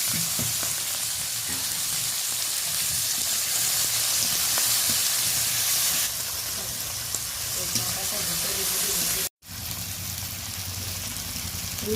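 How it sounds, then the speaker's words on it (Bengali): Tomato pieces frying in a pan with onion, green chili and spice tempering, giving a loud steady sizzle with hissing steam throughout, broken by a brief pause near the end. "ফোড়নের সাথে একটুখানি নাড়াচাড়া করার পরে কেটে রাখা টমেটোটা দিয়ে দিলাম।"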